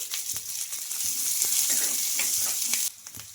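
Chopped onions and curry leaves sizzle steadily in a hot pan for a home-cooked coconut puri breakfast, a dense continuous frying hiss with a few soft stirring knocks, dropping off sharply near the end; no voices.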